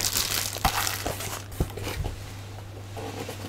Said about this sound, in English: it's engulfed in a plastic bag